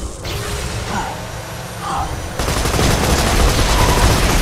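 Rockets launch from a vehicle in the video game Borderlands 2, a dense run of sharp blasts and rapid gunfire-like bursts that grows louder and more continuous partway through, with no talk over it.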